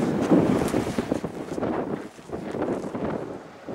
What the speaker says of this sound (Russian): постоянно дует ветер